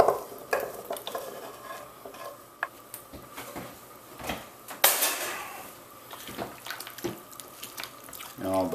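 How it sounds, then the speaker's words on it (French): A spoon stirs beef stew with vegetables and broth in a slow cooker, giving wet scraping and sloshing sounds in uneven bursts, close and moderately loud. "Et on brasse un peu."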